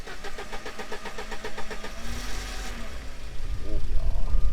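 A 1991 Alfa Romeo Spider engine cranks and catches, then settles into a rough, throbbing idle that grows louder near the end, heard close with a voice speaking briefly over it.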